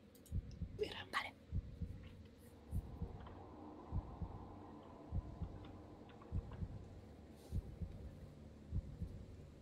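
A heartbeat sound effect thuds in a slow, steady rhythm during a tabletop role-playing session of Curse of Strahd, soft and low under a hum, with some whispering and quiet voices in the background.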